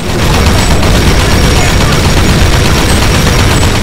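A 50 cal turret machine gun in a video game fires a long continuous roar of heavy automatic gunfire, dense and very loud, with no break in the rapid shots.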